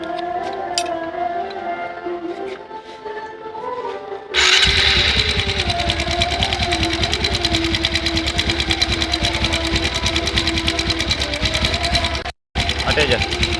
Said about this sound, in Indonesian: Sekarang kita hidupkan motornya ya.